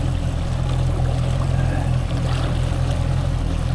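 Motorboat engine revving steadily in gear on a remote river during a fishing and camping trip, a continuous loud low drone with splashing water and wind noise throughout, no voices.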